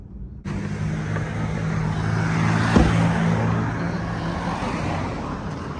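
Car interior engine hum as the vehicle pulls up to a Brooklyn street corner in Bed Stuy, a steady close drone with road noise and a brief thump partway through.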